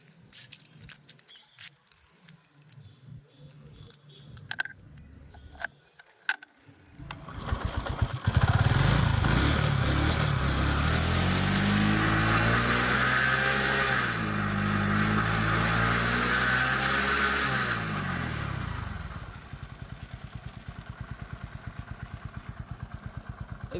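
A TVS XL100 moped runs on trial after a throttle body replacement, first ticking and clicking quietly, then its engine hums loudly and steadily at close range before settling back to a lighter idle.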